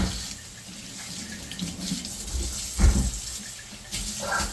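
Water pours from a kitchen sink faucet during rinsing, a close steady stream with splashing bursts as items pass under it, no talking.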